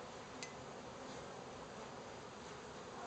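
Honeybees returned to the hive after a sugar shake, a steady close buzzing hum of many insects lasting throughout, with no talk.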